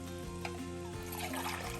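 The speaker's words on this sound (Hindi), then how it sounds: "अब मैं इसमें 3 गिलास पानी डाल दूँगी।" Three glasses of water poured into a pot for bottle gourd and meat curry, a steady close pour with a continuous liquid rush over about two seconds.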